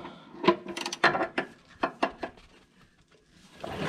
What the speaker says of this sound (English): snag it with a wrench